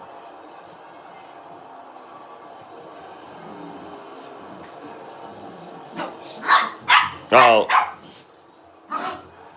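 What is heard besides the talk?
dogs barking, an old poodle and a puppy fighting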